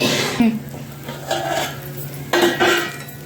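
A lid clatters onto a cooking pan holding semolina sheera, with a few close metallic clanks and a rubbing scrape as it settles, then quieter kitchen noise.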